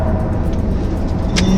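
A Chery OMODA E5 electric car is driven fast on the Mandalika race circuit, heard as a loud, steady road and motor drone from inside the car.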